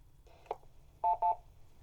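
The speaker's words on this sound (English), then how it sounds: "now you hear the repeater answering back because I have given it the correct PL frequency" A radio repeater answers a keyed-up CS-580 transceiver with two short, clear electronic tones in quick succession. Faint, brief blips come just before them over low background hum.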